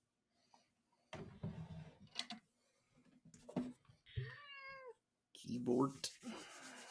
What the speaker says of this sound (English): You got a weird sound making cat.